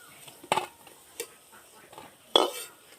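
Deep-fried Shosna flower fritters, fried to a reddish brown, being lifted from the pan: several separate metallic clinks and scrapes of a utensil against the pan over a faint sizzle.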